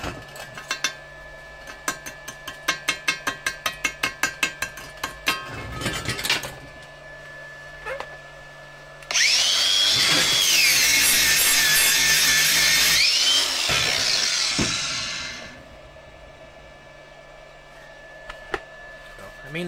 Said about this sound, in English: Alright, so real quick weld.